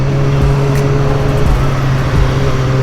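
Road noise roars steadily from inside a Shoei RF-1200 helmet while a motorcycle rides to work in traffic, with a constant low engine hum and rushing wind throughout.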